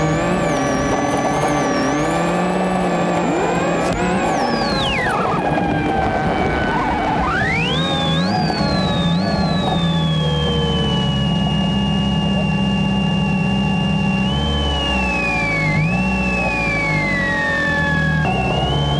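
A rally car on a snowy stage at Round 2 of the 2004 New Zealand Rally Championship in Southland roars loud and close, its engine revving hard, rising and dropping again and again as it pulls away.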